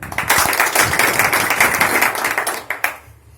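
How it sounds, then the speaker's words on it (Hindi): An audience breaks into clapping to welcome Shri Hariom Verma, the newly chosen chairman, at a village gathering; dense, steady handclaps fill the room for about three seconds before tapering off into a few last claps. "इनके स्वागत में मैं चाहता हूं आप लोग तालियां बजाएं"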